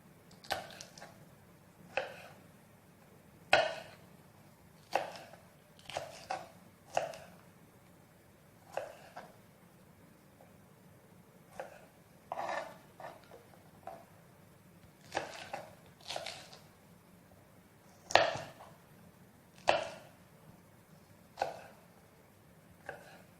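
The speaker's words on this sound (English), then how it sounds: "I just finished slicing my green pepper now" A knife slices through green pepper on a board, giving irregular, sharp cuts and taps that come in short bursts with pauses between.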